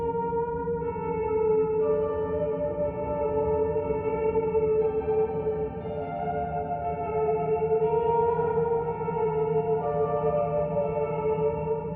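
A slow, reverberant melody from the video game Fatal Frame: Mask of the Lunar Eclipse, meant to be a piano tune, with long sustained tones that overlap and shift every second or two, steady and moderately loud with no talking.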